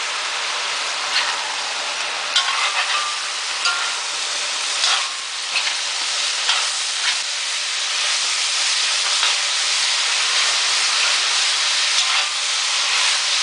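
Peas and bean sprouts cooking on high heat in a pan for vegetarian lumpia, giving a steady, loud, close hiss and sizzle with faint crackles throughout and no talking.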